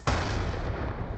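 Concussion grenade detonating in Black Ops II, a single sudden loud blast with a sharp onset followed by a dense rumbling noise that sustains briefly.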